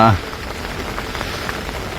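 Rain falls at a carp fishing lake in South Wales, a soft steady wash of patter and hiss lasting throughout, with a short louder tonal blip at the very start.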